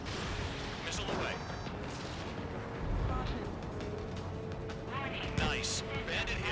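In the video game Ace Combat 7, a missile fires and then strikes its target with a dull, rumbling detonation. The blast rolls under a continuous roar of jet engines and cockpit noise, with a few sharp mechanical bursts.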